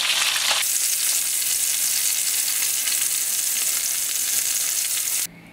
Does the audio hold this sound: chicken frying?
yes